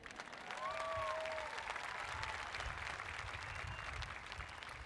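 Steady applause from a large crowd at a high school commencement, dense and continuous throughout, with a faint whistle cutting through early on.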